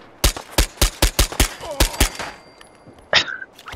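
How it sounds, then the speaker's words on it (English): A silenced HK USP pistol fires in Fallout 4, about ten quick, snappy muffled shots in a fast rhythm, followed by a short pause and one more sharp impact-like burst. "It's a very nice silenced pistol. It sounds funny, almost like a paint gun or something, a paintball gun, you know?"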